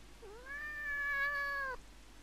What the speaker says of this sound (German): Miau nochmal ins Mikrofon.